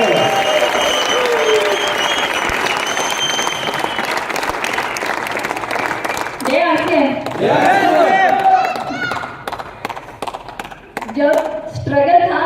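An audience applauds at an achievers' recognition event, loud sustained clapping from a crowd that thins into scattered claps, with a voice talking over it through a microphone.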